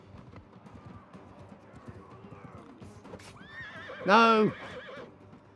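A horse in the Mount and Blade 2: Bannerlord video game gives a loud, close whinny partway through, with hoofbeats clip-clopping faintly underneath and a man briefly exclaiming.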